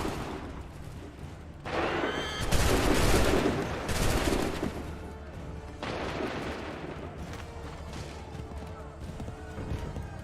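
Musket volley fire in Assassin's Creed 3, a loud burst of overlapping shots that crackle and roll for a couple of seconds, followed by lingering battlefield noise and scattered further reports.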